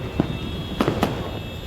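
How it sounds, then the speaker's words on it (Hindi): Fireworks over Jaipur on Makar Sankranti pop in the distance, a few separate sharp cracks and bangs, some in a quick pair, over a steady outdoor hum. "मकर संक्रांति के दिन जयपुर में बहुत ही कमाल की आतिशबाजी होती है।"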